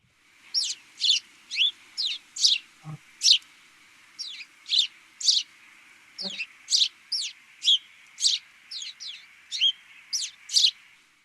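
A house sparrow sings at natural speed, a long run of about twenty quick, bright chirps in a fairly even rhythm, clear and close, with a couple of faint low thumps between them.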